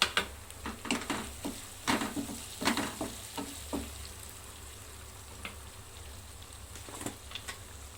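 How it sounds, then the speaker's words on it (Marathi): Finely chopped tomatoes go into a pan of sautéed onion for palak paneer, with a soft sizzle broken by several sharp spoon-and-pan clatters early on that settle into quieter frying. "कांदा छान असा परतून झालेला आहे, तर मी आता हे टोमॅटो बारीक चिरून घेतलेला आहे, ते पण घालायचं आहे."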